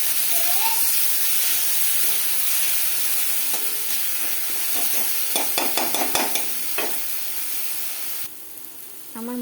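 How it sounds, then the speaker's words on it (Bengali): Spice paste with turmeric sizzles and hisses in a hot pan for a rohu fish curry, a steady frying crackle broken by irregular scraping and stirring clatters close to the microphone. "মশলাটা কষে নেব।"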